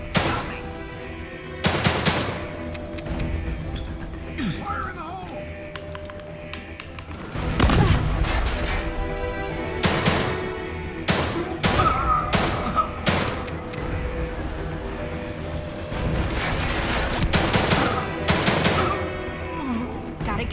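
Gunfire in The Evil Within 2, with loud close bursts of automatic fire and heavy single shots mixed with thuds and booms. Voices and alarm announcements can be heard in between.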